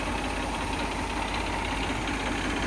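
An Eicher 333 tractor engine idling close by, a continuous heavy diesel rumble with a steady knocking pulse and no voices.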